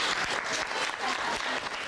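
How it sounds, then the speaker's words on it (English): A gathering's audience claps in a dense, continuous round for about two seconds, even and fairly loud throughout, with only faint voices in the background. "How about a little bit of applause?"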